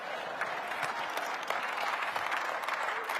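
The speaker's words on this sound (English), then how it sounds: "I would like to give all the white folks a round of applause for being here" Steady audience applause fills a room, a dense wash of clapping from a crowd that holds even in loudness throughout, with no speech over it.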